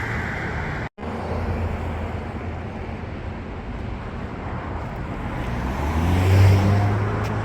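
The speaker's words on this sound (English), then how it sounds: "the traffic is constantly noisy here" Road traffic in Albuquerque makes a steady, broad rumble of passing cars with wind buffeting the microphone, swelling toward a louder pass near the end after a brief dropout early on.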